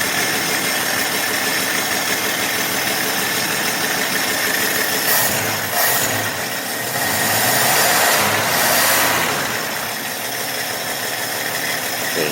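A 1966 Dodge Dart engine with a cheap single-barrel carburetor idles steadily and close by, running slightly rough with a faint miss and a continuous mechanical drone throughout.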